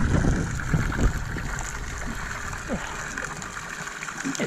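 Water spills and trickles steadily from a boat's bilge pump outlet on Lake Okataina, a continuous splashing wash at close range with no voices over it.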